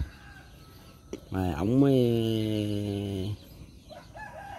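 A fighting rooster crows once, close and loud, in one long drawn-out call lasting about two seconds. Someone talks before and after it.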